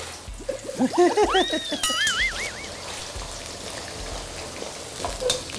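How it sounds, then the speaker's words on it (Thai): Shimeji mushrooms fry in oil with a continuous crackling sizzle, while high whistly tones rise and fall over it early on before the frying carries on alone. "เราก็จะทอดเห็ดให้เป็นสีอมเหลืองนะ"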